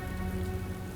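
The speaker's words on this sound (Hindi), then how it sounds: "बाहर बारिश बहुत तेज हो रही है।" Heavy rain falls outside in a steady hiss of drops pattering on surfaces, soft and constant with a faint low rumble underneath.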